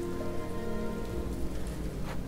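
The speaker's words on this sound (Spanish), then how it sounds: "Fue entonces cuando empezó a llover." Steady rain patters down in the video game Ender Lilies, a dense, even hiss of drops on a surface, close and continuous with no voices over it.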